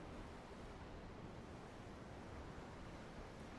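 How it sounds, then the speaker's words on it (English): Ocean waves in the video game Tales of Arise, heard from a ship at sea as a soft, steady, low wash of surf with no distinct breaks. "The waves. They help me think."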